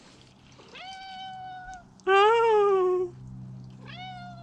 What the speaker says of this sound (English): Oh, lots of meows.